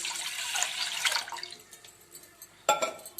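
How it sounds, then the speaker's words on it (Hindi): Water poured from a lota into a cooking pot for moong dal, a bright splashing pour for over a second, then quieter trickles and a sudden splash near the end, close by. "सबसे पहले हम इसमें 1 लोटा पानी डाल देंगे।"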